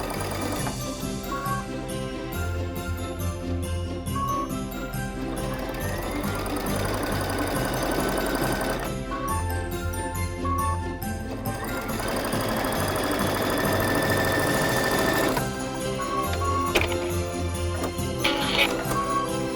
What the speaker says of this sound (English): I'm going to take this to my machine and I'm just going to stitch this open and closed